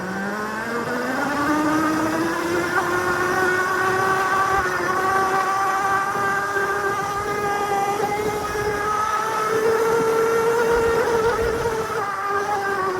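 A Cemoto D02 budget electric motorbike riding off-road in Mode 2, its motor a steady rising and gently wavering whine that holds for the whole stretch with rough ground noise beneath, close and with no talking.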